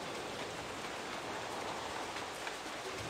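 Steady, dense rainfall in the tactical shooter game Ghost Recon: Island Thunder, an unbroken hiss of drops on surfaces that stays even and fairly loud throughout, with no voices.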